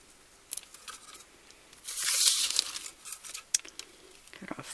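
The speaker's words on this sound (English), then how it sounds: "Cut off the excess." Scissors snip away excess ribbon or twine from a knot on a handmade welcome wreath, a few close crisp cuts with light crinkling and rustling between them.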